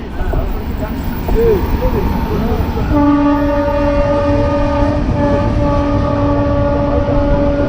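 An express passenger train rumbles past at close range, and a loud sustained horn blast sounds from about the midpoint to the end over the steady rolling noise of the wagons.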